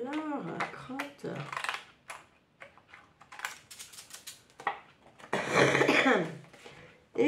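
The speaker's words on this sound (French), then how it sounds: "Et je tousse, et je tousse." A few short coughs and throat clearing from one person at a scrapbooking craft table, mixed with light clicks and taps, close and fairly quiet, with talking around them.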